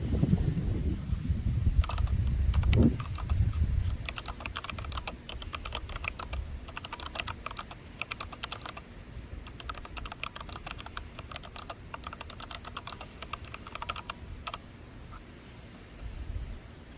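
Steady typing on an Alpha Freewrite keyboard outdoors in direct sunlight, many light key clicks in irregular bursts running throughout, with a brief low rumble of handling near the start.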